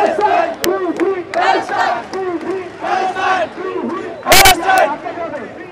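Students from BRAC University march toward Badda in a rally against the genocide in Palestine, a large crowd chanting slogans in rhythmic call-and-response bursts, loud and close, with a brief sharp noise burst partway through.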